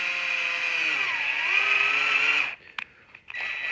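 A drill spins a hard tap to chase threads, a steady high whine lasting a couple of seconds before it stops abruptly, followed by a few short clicks and bursts.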